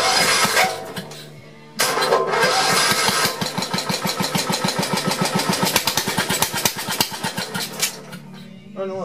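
A Gravely 526 tractor engine on a test stand runs a little rich with the throttle fully closed. It coughs into life and then settles into a loud, rapid, even chugging idle with steady close-up firing pulses.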